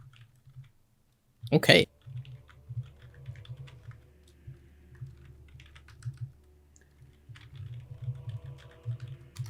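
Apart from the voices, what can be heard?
typing on a computer keyboard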